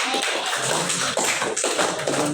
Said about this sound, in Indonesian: tepuk tangan dulu buat tanya